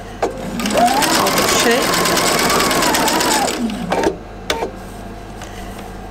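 Sewing machine stitching along the neckline of a knit jumpsuit, a loud, close, steady mechanical whir lasting about four seconds before stopping, followed by a couple of brief knocks; a person speaks briefly.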